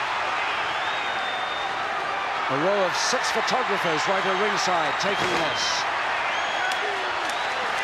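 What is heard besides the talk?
wrestling crowd cheering at Wembley Arena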